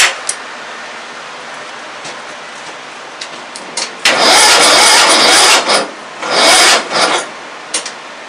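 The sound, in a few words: car engine failing to turn over with a bad battery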